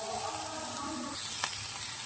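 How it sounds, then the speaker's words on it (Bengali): Capsicum sizzles steadily in a hot pan, a continuous crackling fry with a faint scrape of stirring near the end. "ক্যাপসিকামটা ফ্রাই করে নিচ্ছি"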